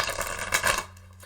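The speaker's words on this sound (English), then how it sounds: "I'm shuffling your cards right now." Tarot cards being shuffled: a brisk papery riffle lasts under a second, close and moderately loud, then fades to a quiet hum.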